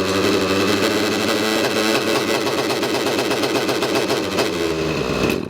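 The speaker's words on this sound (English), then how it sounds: "Release the fuel line, let the engine run out." An OS 105HZ R model engine runs loud and steady with a dense buzzing drone, then sputters and cuts out at the very end as its fuel runs out.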